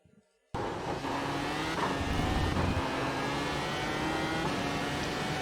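Dallara iR-01 race car engine in iRacing, driven at Suzuka GP, starts abruptly after a brief quiet moment and then holds a loud, steady engine drone with a continuous road roar underneath, no talking heard.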